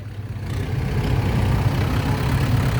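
A tractor engine runs steadily at a low, heavy rumble while pulling a stuck vehicle, swelling a little after the opening and then holding a constant drone, fairly close, with no voices.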